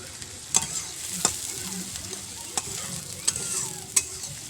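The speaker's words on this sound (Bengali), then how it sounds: "কড়াইটা গরম হয়ে গেছে, তাই আমি তেল দিয়ে তার মধ্যে পেঁয়াজ কুচি ছেড়ে দিয়েছি।" Chopped onion frying in hot oil in a kadai, a constant crackling sizzle broken by about five sharp spatula taps and scrapes against the metal, close and clear with no speech.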